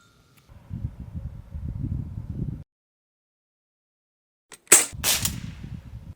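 Crosman Legacy 1000 pump air rifle pumped ten times per shot, fired at a target ten yards off: one sharp close crack with a ringing tail, preceded and followed by bursts of low rumbling handling noise and a silent pause.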